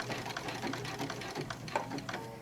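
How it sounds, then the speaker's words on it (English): A longarm quilting machine stitches in place to tie off a knot on a quilted bag, a steady rapid mechanical whir with fast regular needle ticks, close and alone without talk. "So then we're going to knot, and that's literally just stitching in place."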